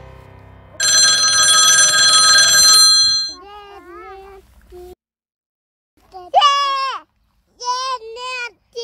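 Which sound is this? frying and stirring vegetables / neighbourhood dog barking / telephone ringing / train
telephone ringing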